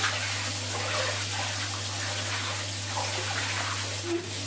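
Water from a shower runs in a steady, even hiss against a low hum, near and continuous, with no speech over it.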